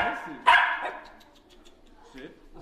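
Dogs at a dog cafe in Japan give a loud, sharp bark near the start, followed by fainter yips and whimpers, with people talking underneath.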